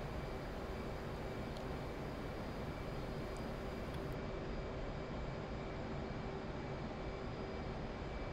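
Constant roaring jet engine of an F/A-18C Hornet in the flight simulator DCS World, a steady broadband rumble and whine at even loudness throughout, with no talking.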